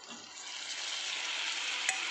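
Broccoli frying and being stirred in a pan, a steady close hiss of sizzling with light scraping, continuous for about two seconds with one brief sharp clink near the end.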